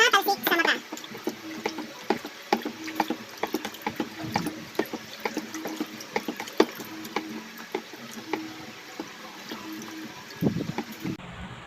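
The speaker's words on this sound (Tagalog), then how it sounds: "Ngayon, haluin natin ulit, guys." A homemade isopropyl alcohol sanitizer mixed with moisturizer and powder-fresh scent is stirred in a container, giving repeated small liquid swishes and light clinks at an uneven rhythm, fairly close and soft.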